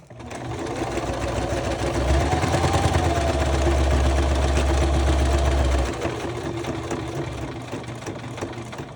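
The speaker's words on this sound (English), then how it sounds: "I am going to sew with the machine" A sewing machine stitches through a paper junk journal made from bank statement envelopes, running in a steady close whir for most of the stretch, a deeper motor drone swelling in the middle before easing off.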